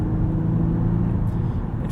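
A 2018 Acura TLX A-Spec drones from inside the cabin on a night drive, its engine a steady, loud low hum with a faint rise in pitch and no talking.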